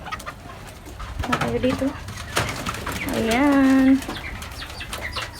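Pigeons on a farm where native chickens are also kept give cooing calls that rise into a sustained coo, close and fairly loud, with a brief voice speaking over the start and rustling around them.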